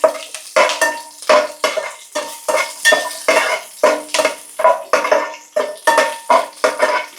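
Green chillies fry in a pan for chicken biryani while a utensil stirs them in steady repeated scrapes and clinks, about fourteen strokes over a soft sizzle, close and fairly loud, with no talking.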